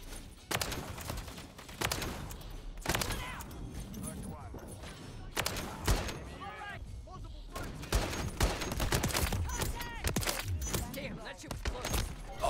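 Rapid bursts of gunfire from a Barrett .50 caliber rifle and other weapons in a first-person shooter video game, loud repeated cracks and volleys throughout, with a voice talking over the shooting.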